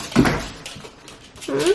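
Pet dogs at home, heard close as two short bursts of whimpering and yipping separated by a quiet gap.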